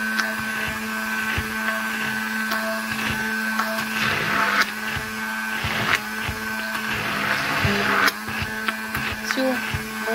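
A hand blender whips homemade mayonnaise emulsion up and down in a container, a steady close motor whine with shifting, sloshing tones as the mix thickens, while someone speaks over it.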